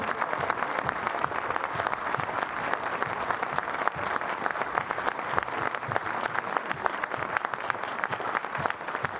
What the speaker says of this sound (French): Est-ce que vous pouvez applaudir dans la salle pour voir ce que ça donne ?